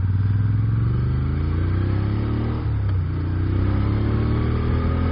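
A 2016 Moto Guzzi Griso motorcycle accelerating through traffic, its engine revving up with rising pitch, a brief shift dip midway, then climbing again, loud and close.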